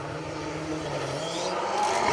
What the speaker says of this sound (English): Sounds to me as if we are into the R5s possibly now.